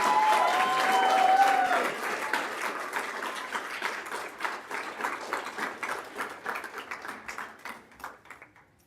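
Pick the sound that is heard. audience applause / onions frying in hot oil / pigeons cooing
audience applause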